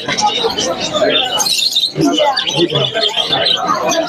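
Many small birds chirp and tweet at the Mirpur-1 bird market, where pigeons and chickens are also sold, with busy overlapping calls nearby under steady, loud conversation.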